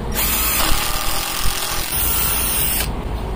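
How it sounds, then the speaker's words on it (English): A power drill boring holes through a bracket to hang a Garmin transom-mount transducer on a boat's transom, a steady loud whine running nearly continuously with brief dips in load. "Drill those out real quick."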